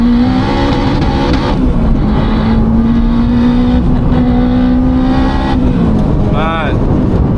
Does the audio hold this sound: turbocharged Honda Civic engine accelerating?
yes